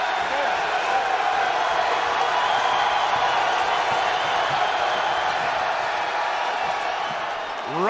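A basketball arena crowd roars and cheers steadily throughout a tournament game, a loud, sustained wash of voices that holds level before easing slightly at the end.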